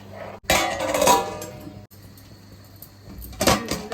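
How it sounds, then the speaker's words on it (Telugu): A metal lid clanks onto a pot of mutton curry and rice with a bright ringing clatter, then a quieter pause, followed by another clattering knock. "మూత పెట్టేసుకున్నాను."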